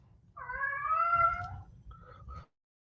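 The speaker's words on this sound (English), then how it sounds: "So cats will start like not meowing, but like yelping." A cat gives one long, wavering meow that turns into a sharp yelp, followed by a shorter cry, close and fairly loud over a low background rumble before falling silent.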